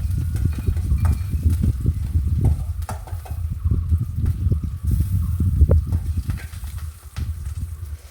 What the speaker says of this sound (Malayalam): നമ്മുടെ കറിയിൽ അരപ്പ് ചേർത്ത് നന്നായിട്ട് തിളച്ച് വന്നിട്ടുണ്ട്.